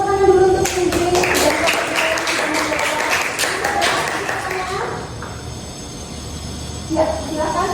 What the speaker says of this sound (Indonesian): Tepuk tangan dulu untuk Ingrid